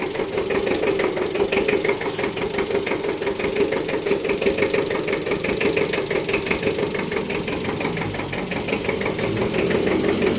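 A small used tractor imported from Japan idles with a loud, steady, chugging engine rumble and a fast mechanical clatter that holds even and unbroken throughout, with no voices over it.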